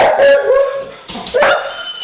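Dogs indoors barking, yipping and whimpering in a couple of close, loud bursts with tonal whines between them.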